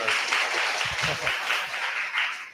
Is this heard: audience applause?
yes